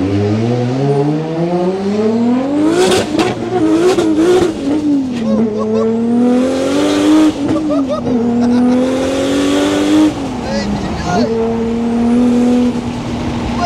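A Nissan Skyline R34 GTR revs loudly close by, its engine note climbing and dropping through repeated throttle blips and surges, with people talking over it.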